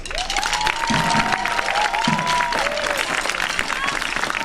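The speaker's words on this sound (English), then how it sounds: "Round of applause." Concert audience applauds at a band performance, a steady wash of clapping with a few whistles and cheers rising over it, sustained throughout at fairly close range.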